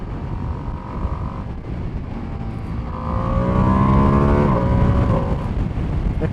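Ducati middleweight motorcycle accelerating hard on the road, engine note climbing through the revs with quick clutchless quickshifter gear changes, steady close engine roar and wind noise throughout.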